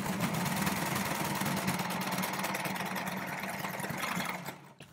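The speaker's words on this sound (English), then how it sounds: "I'm going to sew over where I first started, including over the original tail that I made" An overlocker hums fast and continuously, stitching over the starting point of a seam on fabric for harem pants, a close steady whirr that slows and cuts off at the end.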